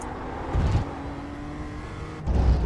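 A race car engine in a sim racing game at the Okayama circuit drones steadily at moderate loudness, with two brief rough surges of revving near the start and the end.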